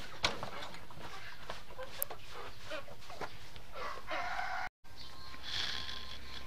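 Chickens at a home yard, including native kampung and Pelung roosters, give occasional clucks and faint calls against a steady background hum, with a brief dropout near the end.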